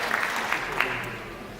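A banquet audience applauding after a concert, a brief patch of dense, fairly quiet clapping from a roomful of people.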